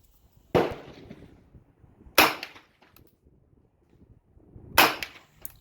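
Three sharp, loud gunshots at an outdoor range, spaced irregularly over a few seconds, each a crisp crack followed by a short decaying echo, from a Romanian WASR 9mm rifle.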